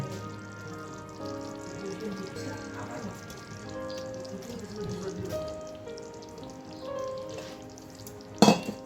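Eggs added one by one to a pan of egg korma, sizzling and frying with a soft crackle under occasional stirring, ending in a brief sharp clatter.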